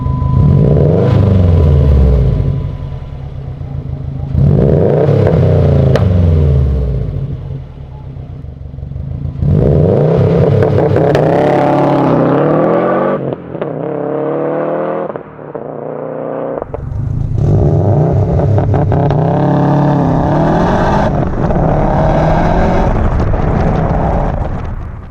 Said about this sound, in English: we hope you enjoyed the sound of your exhaust